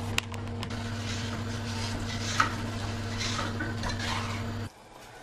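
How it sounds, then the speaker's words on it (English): Sauce for Turkish baklava bubbles in a pot on the stove, a soft steady simmering hiss with a low electrical hum beneath and a faint clink, ending abruptly. "It's starting to boil quite rapidly"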